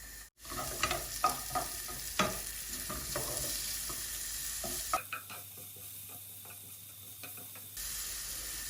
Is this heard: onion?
yes